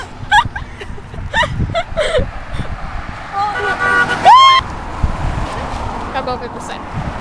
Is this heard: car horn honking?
yes